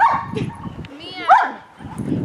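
A dog makes an odd yelping whine, one sharp rising squeal in the middle surrounded by people talking close by.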